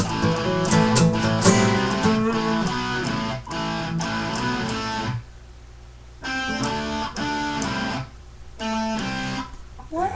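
An electric guitar plays a riff with a distorted tone, giving choppy rhythmic chord bursts that break off into short gaps, played close and loud.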